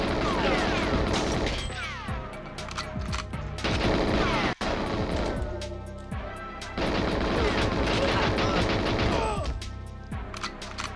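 Constant gunfire fills 007 GoldenEye, dense rapid automatic bursts with sharp single shots layered over game sounds, loud and close, pausing briefly once midway.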